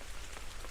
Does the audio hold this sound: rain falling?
yes